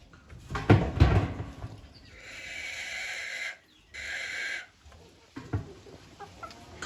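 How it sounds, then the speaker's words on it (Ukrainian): A rooster crows twice in quick succession, close and clear, after some scuffling and clucking, with a fainter cluck near the end. "Півник."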